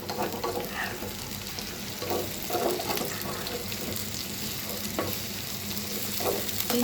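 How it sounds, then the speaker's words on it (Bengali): Onion and green chillies fry in a pan for a beef curry, a continuous close sizzle with a low rumble underneath and soft scraping strokes of stirring at intervals. "চার মিনিটের মতন এটা লাগবে পেঁয়াজটা ভেজে নিতে"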